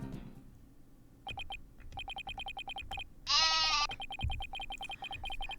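Repeated sheep bleats in Phoenix Wright: Ace Attorney - Dual Destinies, a series of short bright calls in a regular rhythm, with one louder, longer bleat in the middle, clear and close over quiet game background.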